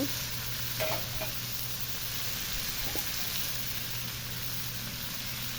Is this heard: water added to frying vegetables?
yes